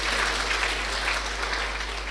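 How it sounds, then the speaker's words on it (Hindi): An audience claps together in a hall during a spiritual class, a dense, steady wash of applause with no talk over it. "अभी ताली बजाओ अपने लिए"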